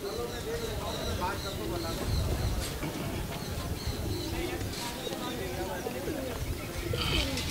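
Pigeons coo softly amid a busy, noisy background with steady murmuring activity throughout, at a Sunday pigeon market.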